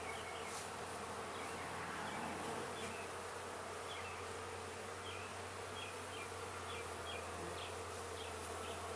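Honey bees buzz steadily around an open beehive with pollen, a dense continuous drone with faint individual bees passing close by.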